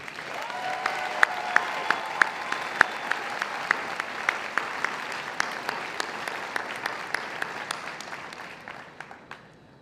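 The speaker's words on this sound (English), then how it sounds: "How about another round of applause for our commencement speaker?" Steady applause from a large crowd at a university commencement ceremony, sustained clapping with a few sharper claps standing out, gradually thinning toward the end.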